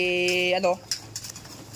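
Racing pigeons coo in a short run of low, throaty calls near the start, with someone talking over and after them.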